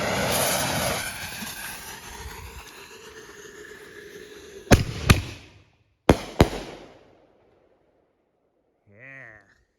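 Consumer firework assortment shells going off: a fading crackling roar, then two pairs of sharp, loud bangs a second apart, ringing out into silence before a faint voice at the end.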